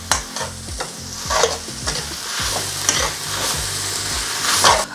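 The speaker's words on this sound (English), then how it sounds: "So we're going to give a good stir to incorporate it all in." A utensil stirs spring roll filling with spring onions in a sizzling frying pan, giving rapid repeated scraping strokes over a steady fry hiss, close and loud.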